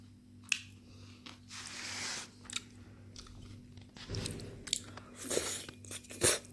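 Close, crisp biting and chewing of fried pork back ribs during a delivery-food meal in Chiang Mai, with a few sharp crunches and softer wet chews between quiet pauses.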